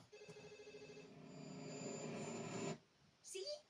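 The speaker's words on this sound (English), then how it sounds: "So the phone's ringing." A telephone rings steadily in a rapid repeating pattern for nearly three seconds, then cuts off, leaving a quiet gap before a short burst of other sound.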